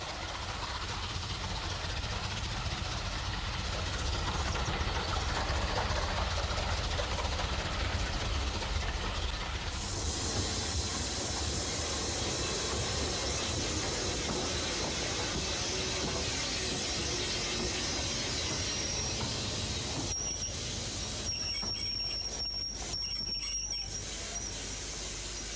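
A Bulleid Pacific steam express locomotive runs at speed, a continuous rumbling rolling noise with metallic squealing, fairly quiet and distant, its character shifting partway through.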